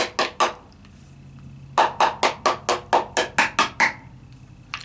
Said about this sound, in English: I start knocking all that gunpowder loose.